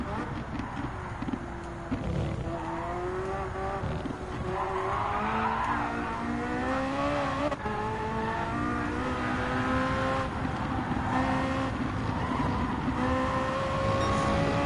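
A race car in Gran Turismo 7 during a Michelin time trial, its engine droning and rising in pitch, with gear shifts breaking the climbing whine and some tire squeal.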